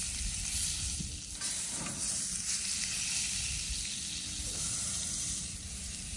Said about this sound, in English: So that's bacon fat you're cooking in.